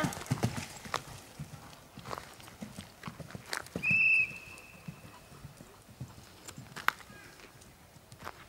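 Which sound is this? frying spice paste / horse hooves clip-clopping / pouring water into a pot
horse hooves clip-clopping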